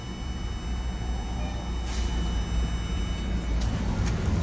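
A 2000 Toyota Sienna engine idles steadily with its cooling fan not running, a low continuous drone with a faint hiss above it and no voices.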